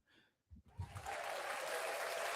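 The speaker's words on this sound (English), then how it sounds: "Big applause for everybody" An audience at a hockey team's weekly award-show gathering in an IHOP in Clifton Park bursts into applause. A few muffled voices and thumps come first, then close, dense clapping builds and holds steady.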